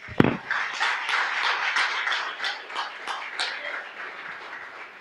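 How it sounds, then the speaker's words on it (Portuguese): A church congregation claps together in a steady, rhythmic burst after a prayer, dense hand claps filling the room for several seconds before thinning out. "E palmas ao Senhor mais uma vez"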